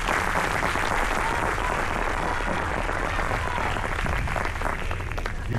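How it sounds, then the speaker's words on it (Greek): An audience at an Agios Polykarpos gathering honouring a church choir applauds warmly, a thick, sustained wash of clapping that fills the whole stretch without a break. "ένα χειροκρότημα παρακαλώ"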